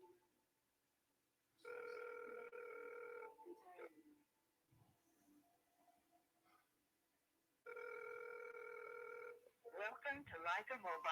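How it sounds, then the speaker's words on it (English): Phone call ringback tones repeating unanswered, two long steady rings separated by a quiet gap, then a faint automated voicemail greeting starts as people talk and react over it. "he rejected the call when you called him, Don C?"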